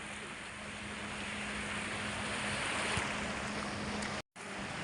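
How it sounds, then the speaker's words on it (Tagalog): Steady broadband wash of sea waves at a beach, loud and close, with a constant roar and a brief dropout near the end. "Ito na ang dagat guys."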